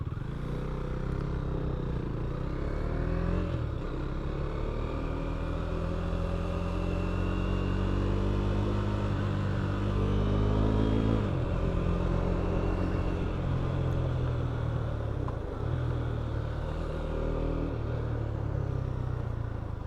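KTM Duke 390 motorcycle being ridden, with a steady engine drone that rises and falls through gear changes over constant wind and road noise.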